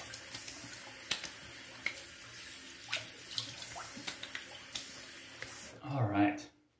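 Tap water runs steadily into a sink while someone rinses their face after a wet shave, a close, continuous splashing wash with brief louder splashes near the end.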